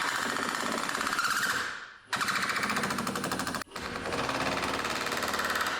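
A power drill drives a 2-inch screw into a 2x4 on a shop bench: steady, loud, rapid rattling bursts that stop abruptly twice, then resume, close up with no talking.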